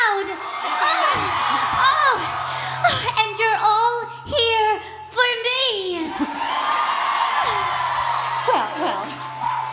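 Convention crowd at a New York Comic Con 2019 Steven Universe panel, whooping, yelling and cheering loudly and continuously around the stage in a big hall, with a low hum underneath.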